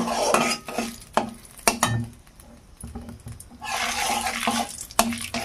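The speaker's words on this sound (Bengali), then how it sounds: "এবার তেলটা একটু নাড়াচাড়া করে নেব" Oil with three small broken dried chillies is stirred in a pan, giving metal spatula clinks and scraping strokes over a soft hiss that swells near the end.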